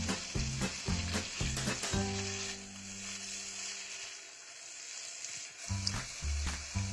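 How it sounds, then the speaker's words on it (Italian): Chopped onion sautés in butter and olive oil in a pot with a strong, continuous sizzle, close by, joined by a few clanks and stirring scrapes at the start and end. "in un'altra pentola mettiamo il burro, circa un cucchiaio di olio d'oliva e mettiamo a rosolare la cipolla."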